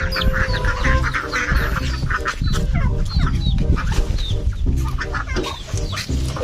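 Domestic chickens cluck steadily on a rural farm, with several birds calling at once in a dense, close flock chorus and no talking.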